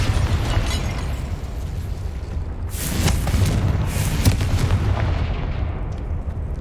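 Blasting spell explosions from Hogwarts Legacy on PC erupt in a couple of loud, booming bursts over a dense rumbling backdrop of game noise, each blast sharp and broad before fading, with no talking.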